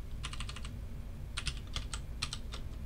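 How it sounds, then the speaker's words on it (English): Keys clatter on a computer keyboard during a programming lab session, a quick burst of rapid taps followed by a pause and then a second, more irregular run of keystrokes over a low steady hum. "I can say there's no more by typing an end of file character."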